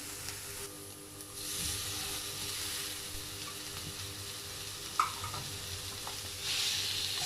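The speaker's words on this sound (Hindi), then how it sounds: "अब हम लोगों ने वेजिटेबल को फ्राई करना है ताकि वो बहुत ज़्यादा सॉफ्ट ना हो, क्रिस्प रहें थोड़ी सी।" Vegetables with chopped tomato frying in a pan, a steady hissing sizzle that swells and fades with occasional stirring knocks, close and soft, no one talking.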